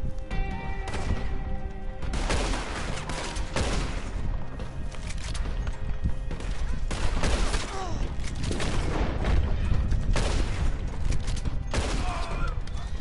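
Rapid, overlapping gunfire in a Red Dead Redemption 2 Online shootout, loud and near, crackling bursts with booming impacts throughout, over a dense game soundscape and occasional speech.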